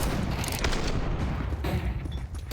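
Rapid bursts of revolver gunfire in a Counter-Strike esports match crack and boom in quick succession, loud and close, forming a dense barrage throughout.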